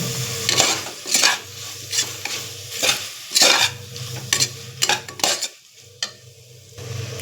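Biryani masala and turmeric sautéing in a pan, bursts of sizzle rising and falling with repeated stirring and light clinks of a spoon against metal, close and fairly loud.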